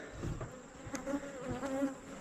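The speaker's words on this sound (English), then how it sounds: "Get away from these bees." Honeybees buzz around an open hive in a continuous close drone, with individual bees rising and fading as they pass near.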